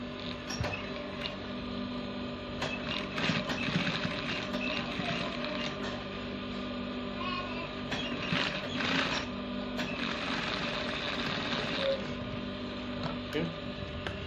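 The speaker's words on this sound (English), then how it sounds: "Alright, I've done the sewing." A sewing machine stitching trouser fabric for a belt and zip, its steady mechanical whir and rapid needle ticking running continuously at close range with a faint hum underneath.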